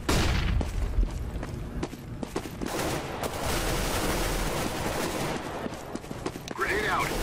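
A flashbang grenade goes off during a Counter-Strike: Global Offensive round on the cs_office map: a loud burst amid game gunfire, with radio-style voice callouts over it.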